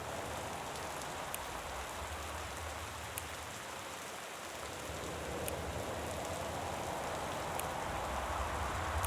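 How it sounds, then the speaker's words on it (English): Steady rain ambience from the video game Gone Home, a constant hiss of falling rain on surfaces with no talk, holding evenly throughout at moderate level. "What about the fucking rain?"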